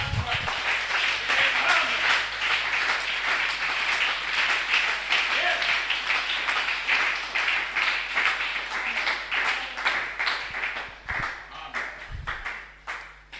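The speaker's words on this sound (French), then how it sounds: "on acclame pour le Seigneur" A church congregation at a revival service applauds in praise, with sustained crowd clapping and cheering that carries on steadily throughout, while a voice speaks over it.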